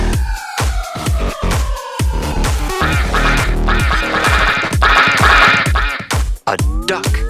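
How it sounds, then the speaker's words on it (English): A duck quacks loudly and repeatedly in harsh, nasal, overlapping calls, close and dense for several seconds, with a brief pause near the end before more quacks. "A duck."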